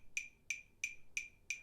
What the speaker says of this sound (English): So I'm going to turn my metronome up, double time to 180